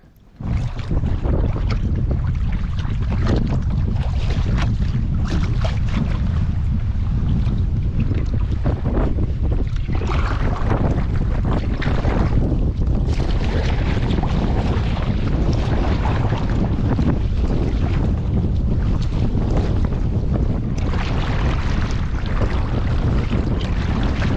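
Strong wind buffets the microphone without pause during a canoe trip in the Canadian wilderness, a loud, continuous roaring rush with gusty flutter and no voices.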